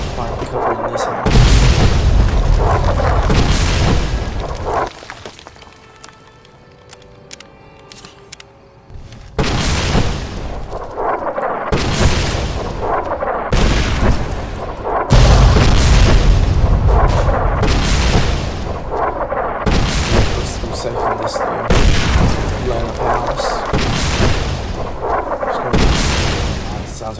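Heavy artillery explosions in Fallout New Vegas, a string of loud, deep booms arriving every couple of seconds with a short lull partway through, mixed with faint game ambience.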